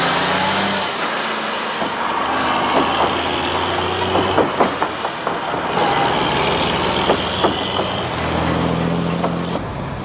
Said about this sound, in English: Both trucks coming to a halt to negotiate the narrow passage, with rows of cars banking up behind them.